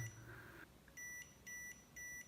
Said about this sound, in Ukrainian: Три рази блимає червоно, три рази пікає, виходу 220 немає.